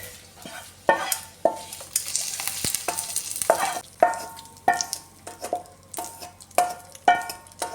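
Okra pachadi is stirred in a pan with a spoon, a steady rhythm of scraping strokes and soft clinks repeating about once per second over a faint sizzle, close and alone with no talking.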